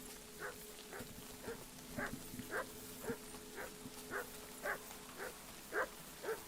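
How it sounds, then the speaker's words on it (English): Dogs bark repeatedly in the video game Kingdom Come: Deliverance II, a steady series of short, moderately loud barks, slightly distant, over a faint background hum. "I hear dogs barking."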